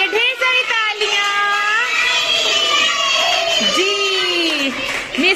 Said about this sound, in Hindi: मिस लाइबा के लिए ढेर सारी तालियां